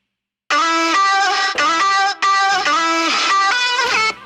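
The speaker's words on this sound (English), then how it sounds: "the other vocal chops for the song are going to sound like this." Re-pitched, bit-crushed vocal chops for a future bass track form a choppy run of gritty, buzzy pitched syllables that shift in pitch over low bass hits, loud and dense with no talking.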